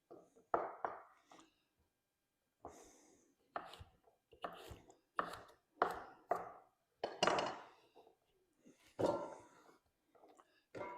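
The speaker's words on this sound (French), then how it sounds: "Comme vous pouvez voir, je les coupe en gros morceaux." A knife chopping carrots into large pieces on a cutting board, with irregular clusters of crisp, close thuds separated by short pauses and a quiet voice speaking between cuts.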